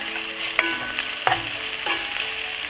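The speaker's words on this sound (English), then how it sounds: "Now I'll add in the garlic, the minced garlic. Give it a stir." Minced garlic frying in a pan, with a steady sizzle broken by three sharp scraping clicks of stirring spaced roughly evenly apart, close and moderately loud.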